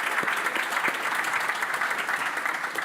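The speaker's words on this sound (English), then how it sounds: "Can we give a round of applause to our panelists" A conference audience applauds its panelists at a small business training event, with steady, dense clapping from a room-sized crowd that runs throughout.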